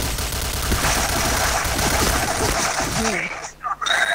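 Rapid gunfire from the first-person shooter video game Point Blank, a dense burst of close, loud shots filling the clip before a brief dip and a few more cracks at the end.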